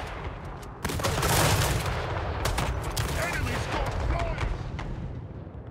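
Big cannon booming amid a fantasy battle in Total War Warhammer 3, heavy blasts and crackling gunfire layered over a dense roar of combat, with voices mixed in.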